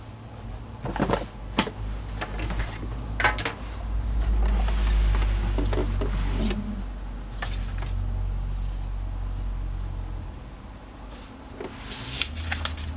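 A sewing machine stitching an embellishment onto a binder journal page, its low steady mechanical whir running for several seconds, close and moderately loud, with scattered paper rustles and taps around it.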